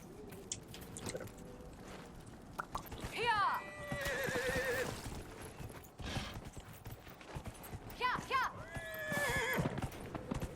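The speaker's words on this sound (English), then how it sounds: "Not even sure how I feel about the whole horse riding thing." Horse hooves clip-clop at a steady gait in Dragon Age: Inquisition while the mount lets out a couple of whinnies, moderately loud over game ambience and brief talk.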